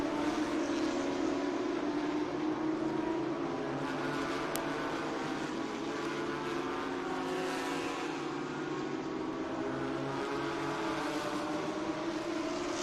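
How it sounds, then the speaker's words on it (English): A Bentley GT race car engine rumbles past at Watkins Glen with a deep, steady roar that swells and fades slightly, loud and continuous with no talking. "You can hear that Bentley rumbling by our commentary position."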